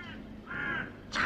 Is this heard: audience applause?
no